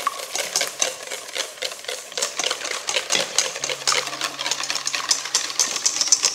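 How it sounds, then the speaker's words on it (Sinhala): Mayonnaise beaten vigorously by hand with a wire whisk in a bowl, a fast continuous clatter of rapid metallic strokes, close and busy throughout with no speech. "ඉතින් මේක ටිකක් අමාරුයි පොඩ්ඩක් කරන්න ඕනේ මේක හයියෙන් මේ වගේ විස්ක් එකකින්"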